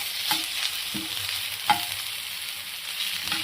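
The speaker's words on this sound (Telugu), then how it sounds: "ఆ అల్లం వెల్లుల్లి పేస్ట్ పచ్చివాసన పోయేంత వరకు ఇలా పచ్చివాసన దగ్గర కొద్దిసేపు ఇలా వేయించుకొని" Ginger garlic paste fries with curry leaves in a pan for carrot curry, a constant close sizzle with a few soft spatula clicks and scrapes.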